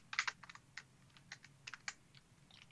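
Keys tapped on a computer keyboard, quiet and close, a short irregular run of clicks with small pauses between keystrokes.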